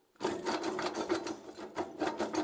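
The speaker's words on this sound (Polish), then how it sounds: "Przeczyścić ruszcz żeliwny." A cast-iron grate in a coal boiler is scraped clean with quick repeated rasping strokes, close and steady for about two seconds with no voices.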